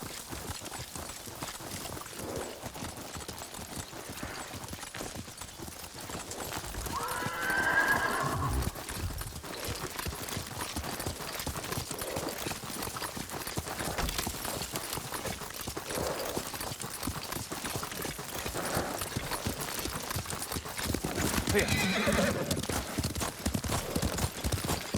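Horse hooves clip-clopping and a horse neighing in the game Ghost of Tsushima, with a steady galloping patter under ambient game sound and a louder whinny rising around the middle and again near the end.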